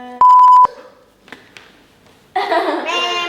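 A single loud censorship bleep, a pure steady tone lasting about half a second, followed by faint rustles and then children talking and laughing.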